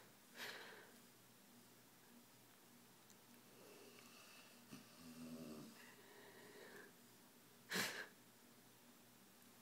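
A pet snoring softly nearby, slow faint rasping breaths in the quiet with a sharp snort-like burst near the end.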